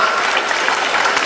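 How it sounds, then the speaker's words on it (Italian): Steady, dense clapping from an audience at the Bologna Pride 2016 committee presentation, a short, even stretch of applause with no speech over it. "Vi chiedo un applauso anche per loro."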